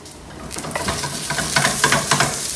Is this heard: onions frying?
yes